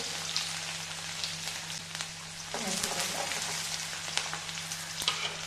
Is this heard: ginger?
yes